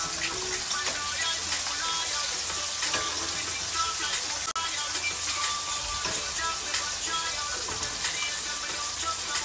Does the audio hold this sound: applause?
no